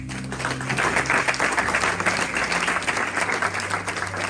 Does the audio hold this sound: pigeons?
no